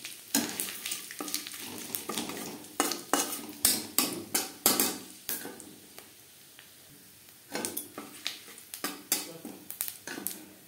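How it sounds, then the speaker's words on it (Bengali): Five-spice seeds and bay leaf fry in hot oil in a wok, with bursts of crackling sizzle and spatula scrapes against the metal, loud and close, pausing midway before resuming. "5 ফোড়ন তেজপাতা ভেজে নেওয়ার পর"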